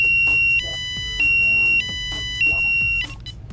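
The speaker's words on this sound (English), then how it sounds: "When the anti-theft alarm is enabled and someone tries to turn off your alarm head, you'll be met with the right racket." An R3 alarm head's anti-theft alarm blaring, a loud piercing electronic tone that pulses in repeated bursts of about half a second, alone without talk.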